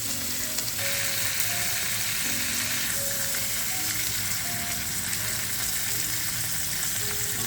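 Shrimp and squid tentacles sizzle steadily on a hot grill, a dense, continuous frying crackle with small pops, close and even throughout, with no voices.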